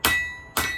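A hammer strikes cold metal on an anvil while a blade is forged, giving two sharp ringing clangs a half second apart, each with a bright sustained ring that fades, close and loud with no talking.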